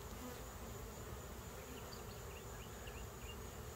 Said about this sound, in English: They're fanning on this frame like she's here somewhere.